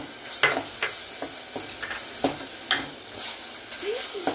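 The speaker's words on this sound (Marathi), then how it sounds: "मसाला भाजून घ्यायचा चांगला" Masala with red chili powder roasting in a pan for a field-bean curry: a close, steady sizzle broken by repeated scraping strokes of a spoon stirring the spices.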